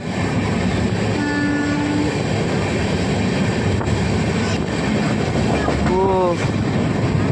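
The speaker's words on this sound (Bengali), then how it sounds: "ক্রস করছে ওই সাইডে মালগাড়ি, এটা অয়েল ট্যাঙ্কার।" A goods train of oil tankers rolls past on the adjacent track, heard from inside a moving express: a dense, loud, continuous rumble with brief horn-like tones, and a voice speaks briefly.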